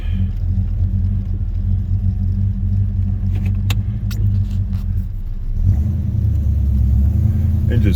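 1976 Oldsmobile Cutlass Salon with a 455 V8 running cold on a short drive, a steady low rumble from inside the car that deepens and swells near the end, with light rattles and faint talk.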